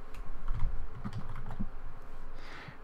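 Typing on a computer keyboard while writing Ruby code, a quick run of soft close key clicks over a low background hum, no talking.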